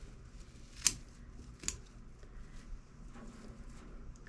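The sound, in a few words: scissors trimming the ends off herbs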